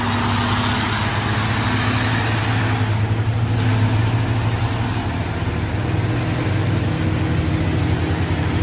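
A heavily loaded Tronton truck grinds up Bukit Kodok hill, its heavy diesel engine droning low and steady at close range for several seconds, with no talking.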